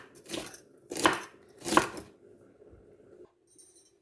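A knife cuts cabbage into thin slices on a board, giving three distinct, fairly close chopping strokes spaced about half a second apart, followed by a faint clink near the end.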